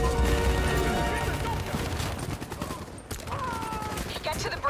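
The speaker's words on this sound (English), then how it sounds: "Give me some cover fire." Gunfire in a Call of Duty: Black Ops III campaign battle: dense, rapid bursts of cover fire crackle throughout, with in-game voices and effects layered underneath.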